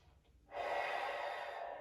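A long, steady deep breath during a stretching and flexibility exercise class, starting after a half-second of near quiet and sustained close and fairly loud to the end.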